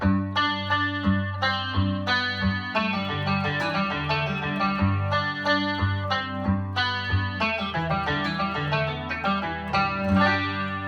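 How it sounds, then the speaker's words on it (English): Gold Tone EB6 banjitar played through chorus, reverb and EQ effects, ringing plucked notes and chords with a shimmering, wide tone in a steady picked rhythm, alone with no voices. "That's a bunch of chorus with some reverb and a lot of different little EQs"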